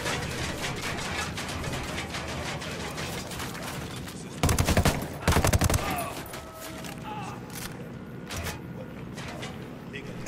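In Ghost Recon Wildlands, bursts of rapid automatic gunfire crack out in two dense volleys mid-way, with scattered single shots around them, over a continuous background of voices.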